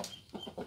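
Joper chickens on a poultry farm cluck in a few short, soft calls inside a coop of around 400 birds, heard close and alone.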